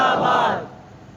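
Crowd chanting a religious slogan at a Muslim religious gathering, a loud collective shout of many voices that holds briefly and then drops off abruptly into quiet room tone.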